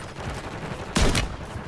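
Gunfire in the video game Warzone: a quick burst of two or three sharp shots stands out against a busy, noisy game background, fairly close and brief.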